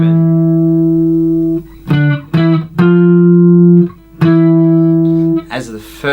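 An electric guitar plays a phrase from a solo in octaves. About five close, loud, sustained notes are separated by short gaps and sound alone.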